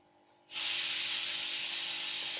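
A mixer grinder jar spins peanut flour with jaggery, starting abruptly after half a second of quiet and then running as a steady, loud, hissing whir to the end.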